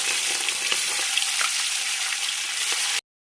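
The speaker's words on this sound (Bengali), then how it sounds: "তেল গরম হয়ে গেছে, এবার মাছগুলো আমি ছেড়ে দেবো।" Rohu fish pieces hiss and crackle in hot oil, a dense, steady sizzle that stays loud and even for about three seconds, then cuts off abruptly.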